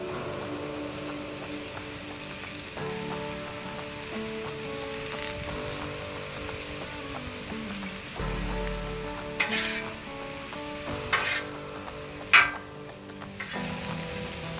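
A breakfast hash with chopped bacon, mild cheddar and pepper jack cheese sizzles steadily on a grill, with a few louder clanks and scrapes of stirring toward the end.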